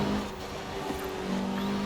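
A Mitsubishi Evo VI four-cylinder engine in the Forza Horizon 4 racing game drones at a steady, fairly loud pitch, holding a sustained note with only slight shifts in tone.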